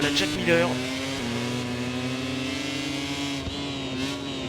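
A racing motorcycle engine revs during a race, with whining pitch sweeps as it accelerates and holds high revs, steady and fairly close, under excited commentary.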